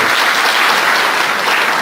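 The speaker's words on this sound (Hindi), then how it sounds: "एक बार जोरदार तालियां बजाएं।" Loud, dense applause fills a hall at an astrology conference, a steady wash of clapping from a large audience that holds at full strength for the whole short stretch without any talking.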